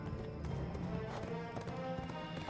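Hooves clip-clopping in a rapid galloping rhythm from a horse in Lego The Lord of the Rings, running steadily under a bed of orchestral music and fairly quiet overall.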